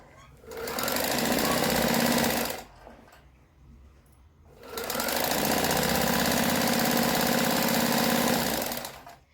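A sewing machine stitches a 2-inch fabric strip for a kurti in two long, steady bursts of fast mechanical whirring, close and loud, with a short quiet pause between them.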